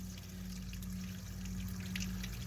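Gray water drains from an RV holding tank onto the ground during winterizing of a Casita trailer, a steady close splashing trickle with a low constant hum, no voices.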